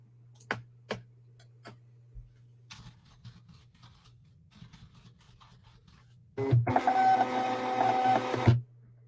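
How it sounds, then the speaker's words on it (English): Scattered taps and soft handling noises, then a loud ripping screech of packing tape pulled off the roll for about two seconds, up close. "Oh, taping sounds, not typing sounds."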